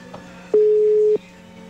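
A single steady telephone ringing tone at close range, lasting a little over half a second and then stopping.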